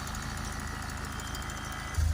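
Car engine idling during a DPF diagnosis, a steady low rumble with a regular pulsing beat, close and constant, with a slight louder thump at the very end.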